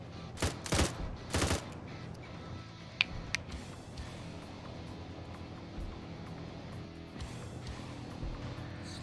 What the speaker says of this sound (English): And that Bulldog's still shooting at whatever targets it can. Now shooting at infantry.